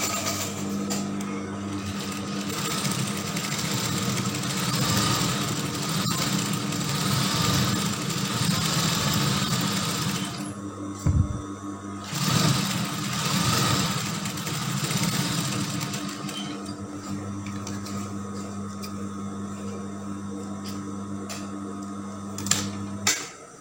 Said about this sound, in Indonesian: Kemudian ini kita jahit kerut jahitan stikan besar karena nanti akan kita kerut bagian atas sini